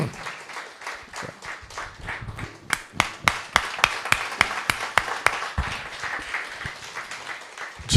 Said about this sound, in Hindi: आप ताली बजा सकते हैं इनके लिए